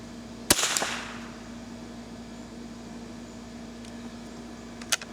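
A single sharp rifle shot at a target from a Savage target rifle or Marlin hunting rifle loaded with SK Standard Plus rounds, a loud close crack with a brief decaying tail, followed by a steady hum and a faint click near the end.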